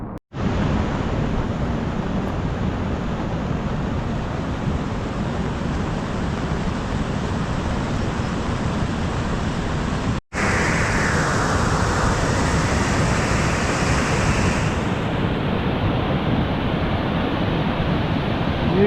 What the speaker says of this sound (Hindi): किसी किसी जगह पर ब्यास नदी का जो पानी है वो खेत के ऊपर से बह रहा है।